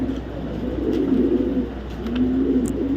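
A female racing pigeon coos softly and repeatedly at close range, low throaty calls rolling over a faint background hum.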